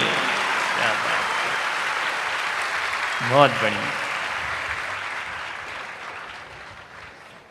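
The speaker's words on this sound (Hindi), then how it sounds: "अपने माता पिता के लिए तालियां बजाइए।" An audience claps in steady, sustained applause, while a voice speaks briefly over it.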